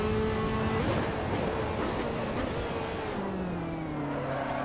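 A Ferrari 458 GT2 engine in the Assetto Corsa racing game on the Nurburgring Sprint circuit, a steady, loud engine drone with gear-shift steps in pitch as the car holds speed through the lap.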